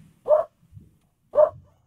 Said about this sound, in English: Of course, the dogs are going to be very noisy.